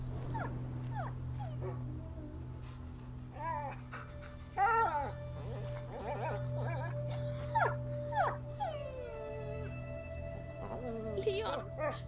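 A dog in the medieval French setting of the video game A Plague Tale: Innocence howls and whimpers in repeated rising and falling yelps over a constant low hum, with faint voices now and then.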